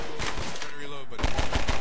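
Gunfire in Half-Life 2 rattles off in rapid, close, loud bursts, pausing briefly before another quick volley of shots.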